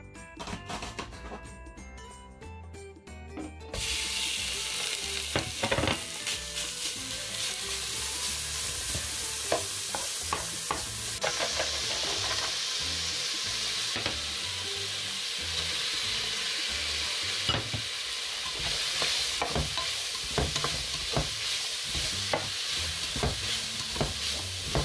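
Onions and bacon lardons fry in a hot pot for smoked-sausage lentils: quiet at first, then a steady, close sizzle with scattered clicks and scrapes of stirring.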